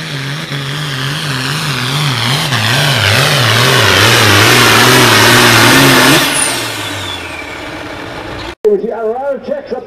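A John Deere 4450 tractor in a 10,000 lb pro farm tractor pull roars loudly and steadily, pitch wavering as it strains and then fades, with a voice briefly audible at the end.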